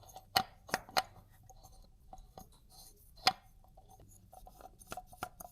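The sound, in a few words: screwing motorcycle oil filter cap back on by hand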